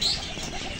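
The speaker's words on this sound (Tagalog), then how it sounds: "yung mga alaga kong kalapati" Pet pigeons coo softly inside their coop, a brief low murmuring burble close by with faint rustle behind.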